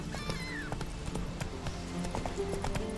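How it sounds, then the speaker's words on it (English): Hoofbeats of the horse Roach clip-clop rhythmically through a Witcher 3 game scene, with a brief whinny early on, under steady background game audio and some faint voices. "Whoa there, Roach"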